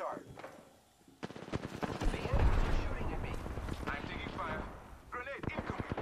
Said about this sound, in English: enemy are shooting at me. I'm taking fire.